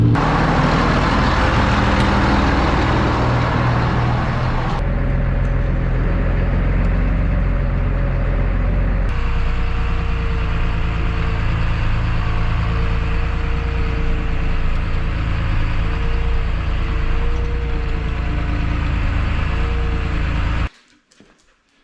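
A John Deere tractor engine runs with a loud, steady, close drone for about twenty seconds, then cuts off abruptly.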